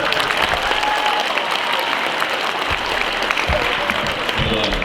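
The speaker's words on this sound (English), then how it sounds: "Let's give him a warm applause, 8th grade." Eighth grade students applaud together in a classroom, a steady dense wash of clapping that holds for the whole stretch, loud and close, with a few sharper claps and murmuring voices mixed in.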